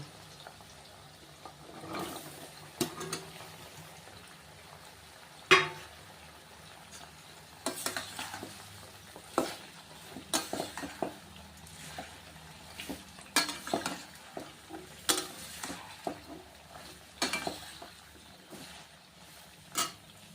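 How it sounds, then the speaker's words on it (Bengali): Cauliflower, radish and carrot fry in oil for a vegetable pickle, giving a low, steady sizzle broken by frequent scraping stirs and clinks of a utensil against the pan, with no voices. "ফুলকপিটা মিনিট পাঁচেক ভেজে আমি মূলোটা আর গাজরটা দিয়ে দেবো"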